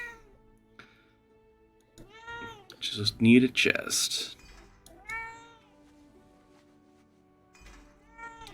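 A house cat meows a couple of times close by, mixed in with someone talking and a loud burst of other noise.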